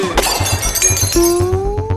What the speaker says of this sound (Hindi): लाला जी की नई गाड़ी टूट गई बेचारी